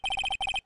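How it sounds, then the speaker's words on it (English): An electronic phone ringtone from the Ace Attorney video game: two quick bursts of rapid, bright trilling pulses, about five and then three beats, heard alone and clearly up close. "I heard a phone ring just now."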